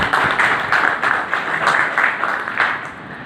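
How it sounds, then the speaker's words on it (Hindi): Audience at a wellness event clapping together, with loose rhythmic claps in a crowd forming a moderately loud, fairly even patter for a few seconds. "आप मेरे साथ तालियां बजाइए"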